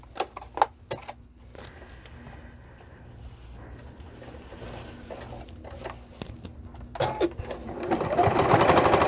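A domestic sewing machine stitches a protective fabric mask in short rapid bursts of close mechanical chatter, starting and stopping, then running steadily louder toward the end.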